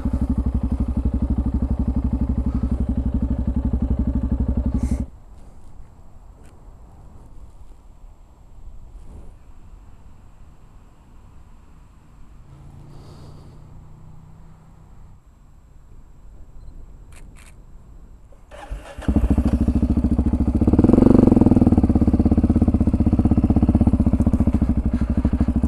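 An off-road vehicle on off-road tires driving over rough ground: a loud rumbling engine and clatter at first, a quieter stretch with scattered knocks, then the heavy rumble returning louder near the end.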